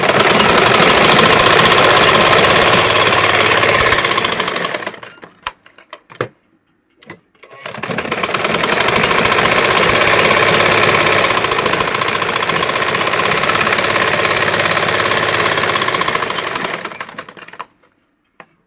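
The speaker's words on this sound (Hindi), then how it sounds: "सेम उसी प्रोसेस से दोनों तरफ से मैं सिलाई लगाऊंगी और 2-2 लगाऊंगी।" A sewing machine stitches blouse fabric in two long, loud, continuous runs of rapid mechanical rattling, separated by a brief pause.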